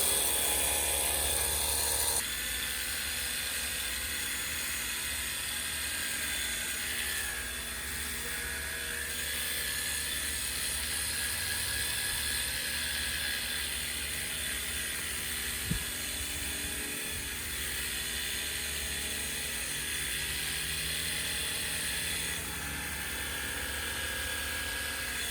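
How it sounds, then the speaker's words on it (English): A Sunglife cordless Hydroshot pressure washer sprays water in a continuous hissing, whining rush that holds steady for the whole stretch, with a brief shift near the start and no talking. "So we're gonna quickly switch attachments and hose it down."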